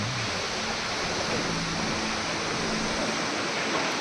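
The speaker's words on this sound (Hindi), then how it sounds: "आपने इस फव्वारे को देखा, इस झरने को देखा जिसे हम वसुधारा कहते हैं।" The Vasudhara waterfall, fed by icy snowmelt, roars as a steady, dense wash of falling water, loud and unbroken throughout with no voices.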